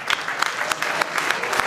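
Raucous audience applause at the end of a talk at the annual Chaos Communication Congress in Hamburg, Germany: dense, continuous clapping from a large crowd, loud and steady throughout.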